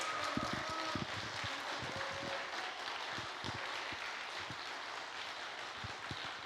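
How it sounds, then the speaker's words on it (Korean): Audience applause fills a church hall during a Korean Baptist church send-off service for a short-term mission team to Mongolia, steady and moderately loud clapping from a crowd that carries on continuously throughout. "여러분 마음 가운데 감동이 있으신 만큼 박수로 격려하겠습니다"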